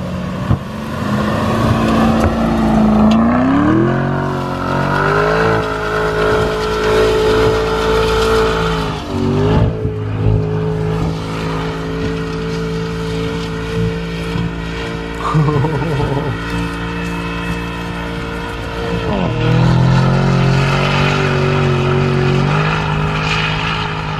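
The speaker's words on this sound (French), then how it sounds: "pour faire une course sur le sable en Lamborghini Urus" A Lamborghini Urus SUV racing on beach sand in its Sabbia drive mode, its engine droning and revving loudly with rising and falling pitch as it accelerates and shifts. A voice talks over it.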